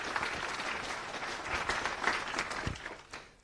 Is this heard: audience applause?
yes